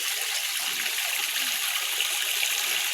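Water pours from a tap in a continuous splashing rush as a container fills, steady and close.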